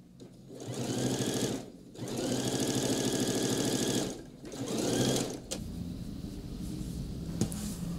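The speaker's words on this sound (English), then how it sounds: "So now we're going to top stitch this as well" A sewing machine top stitches a coat with a large stitch length in three close, continuous runs separated by brief pauses, then falls to a lower steady hum.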